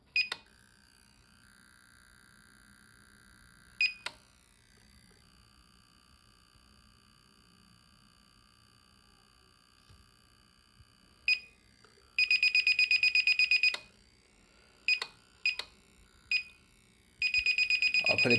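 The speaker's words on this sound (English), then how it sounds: "you'll hear a slight beep or vibration noise" Remote controller for a Holystone HS100R drone emits clear electronic beeps: sparse single tones at first, then a longer buzzing beep burst, a few short beeps, and another sustained beep near the end.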